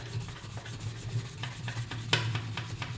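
A churchwarden pipe stem rubbed against an abrasive pad during restoration, giving a soft, continuous scratchy rubbing with repeated strokes and one sharper scrape, close and fairly quiet over a low steady hum.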